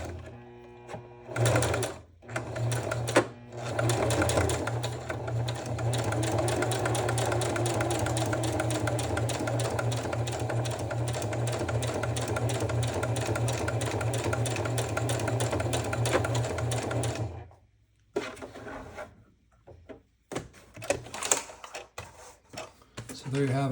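Sewing machine stitching a row of stitches, a steady loud motor whir with rapid needle chatter running unbroken for about fifteen seconds, then stopping, with a few short clicks and handling sounds afterward.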